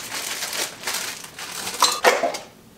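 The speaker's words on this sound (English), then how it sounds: "I'm gonna put some frozen mangoes in it" Frozen mango chunks and banana drop into a blender jar with a few hard clinks and crunchy clatters, close and brief, with no talking.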